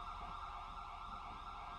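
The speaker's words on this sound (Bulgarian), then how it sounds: "Какви са тези сирени, бе?" A wailing emergency-vehicle siren holds a steady high tone over low background rumble, fairly faint and continuous, with no talking.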